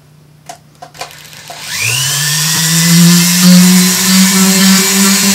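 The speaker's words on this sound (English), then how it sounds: "So I'm going to go in with a little dental burr" A small dental burr spins up with a rising whine and then runs steadily at high pitch as it rounds off the edges of a drilled hole during a speaker installation, loud and close after a few light taps at the start.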